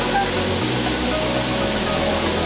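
Strong current of water rushing at Daranak Falls in Tanay, Rizal, swollen by continued rain, a loud steady broadband roar filling the whole stretch with no breaks and no talking.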